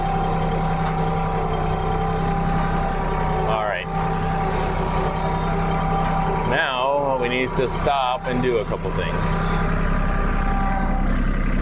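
A farm tractor idles steadily at close range, its low rhythmic engine drone running through the whole stretch while someone talks over it.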